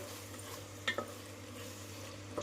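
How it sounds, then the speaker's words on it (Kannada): Rice and yogurt being stirred together in a cooking pot for Hyderabad-style khuska, a quiet scraping and mixing with a couple of soft clinks of a spoon against the pot over a low steady background hum. "ಸೊ ಇದನ್ನು ಎಲ್ಲ ಮಿಕ್ಸ್ ಮಾಡಿಬಿಡೋಣ."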